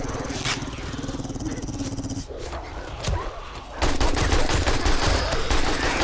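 AK rifle fire in 7 Days to Die: rapid repeated shots in the first two seconds, a quieter gap with a few thuds, then a loud sustained burst of automatic fire to the end.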